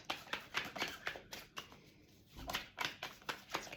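Playing cards are shuffled repeatedly nearby, a rhythmic series of soft riffling flutters and taps with a short pause midway.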